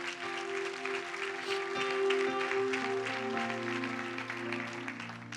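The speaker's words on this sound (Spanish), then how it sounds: "Den un fuerte aplauso a Dios por eso." A church congregation applauds steadily throughout, a dense, continuous wash of clapping over a low sustained musical drone, with no voices rising above it.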